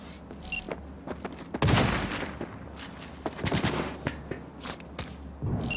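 Sniper gunfire in the video game Cyberpunk 2077: several sharp, loud shots burst out at irregular intervals over a busy, rumbling game soundscape, with smaller clicks and impacts in between.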